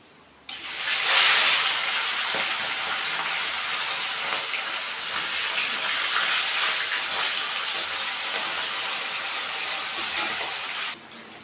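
Fish pieces frying in hot oil, a loud continuous sizzle that starts abruptly with a bright spattering burst, then holds steady and close before cutting off near the end.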